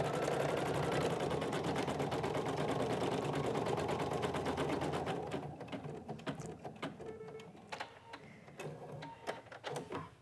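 An embroidery machine stitches an applique, a steady rapid needle chatter running loud for about five seconds, then stopping and giving way to quieter scattered clicks and handling noises.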